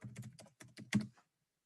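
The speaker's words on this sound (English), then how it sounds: "And then we're just going to type in Philadelphia." Quick, quiet keystrokes on a computer keyboard type a search term, about a dozen close taps in a rapid burst before falling silent.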